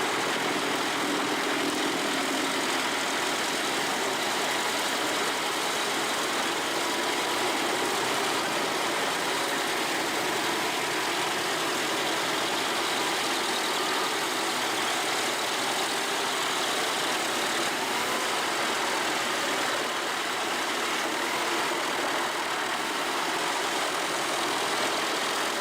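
A wood chipper engine runs continuously at a steady roar, loud and close, with a broad, even rumble and no voices.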